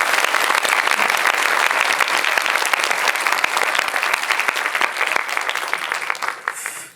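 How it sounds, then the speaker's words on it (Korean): An audience at a film screening Q&A for a Korean feature breaks into loud, sustained applause. The clapping is dense and even for several seconds and then tapers off at the end. "큰 박수 한번 보내주시죠."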